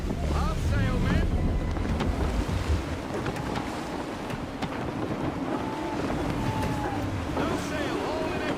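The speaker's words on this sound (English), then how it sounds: "Wind looks to be shifting. Stay alert, Connor. Gusty winds can be difficult to manage." Gusty wind blowing across a sailing ship at sea in Assassin's Creed 3, a loud steady rush of wind and water with creaking and splashing, and voices at times.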